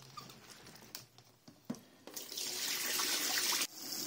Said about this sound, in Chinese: 然后用清水清洗几遍